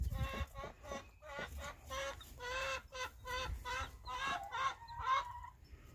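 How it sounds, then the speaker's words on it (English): A broody chicken hen squawks and clucks agitatedly in a rapid series of loud, close, harsh calls over faint background noise, with no talk. "I don't know why this one's squawking like crazy."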